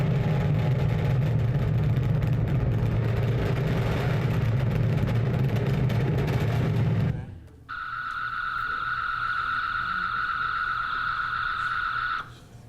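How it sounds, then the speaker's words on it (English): Recreated UFO craft take-off sound: a loud, dense low rumbling roar for about seven seconds cuts off abruptly, followed by a steady oscillating second engine with a sustained bright whine that then stops. "we worked really hard at getting a sound that sounded a lot like the craft taking off, and then this oscillating second engine that kicks in"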